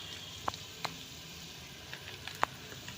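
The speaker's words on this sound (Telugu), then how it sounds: "అల్లం పేస్ట్ వేసి వేపాలి." Ginger paste frying in hot oil while cooking a meal maker curry: a soft, steady sizzle with a few sharp pops and spits scattered through it, quiet and close.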